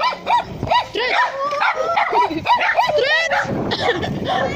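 Dogs barking at cyclists riding bicycles: a quick run of close, loud barks and yips in repeated bursts, with people talking over and between them.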